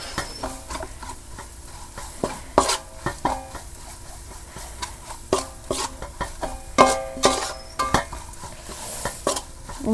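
Crab curry masala stirred and fried in hot oil, with a steady sizzle under repeated scraping and clinking of a spoon against the pot, several sharp metallic knocks standing out, no talking.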